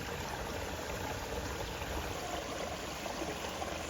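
A stream along the Appalachian Trail in Connecticut flows steadily, a constant broad wash of rushing water close by with no voices over it.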